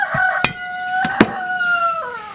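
A rooster crows loudly and nearby in a rural kitchen setting, its call rising and trailing off, while sharp knife chops on a cutting board punctuate it.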